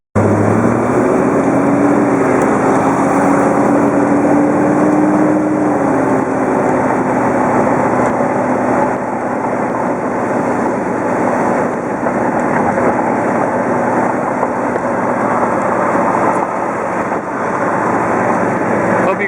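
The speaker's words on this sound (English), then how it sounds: "the car is much louder than it used to be" A 1973 Corvette convertible with a 454 engine and new headers drives along, its deep engine drone loud and steady with a brief rising pitch early on, then holding an even roar.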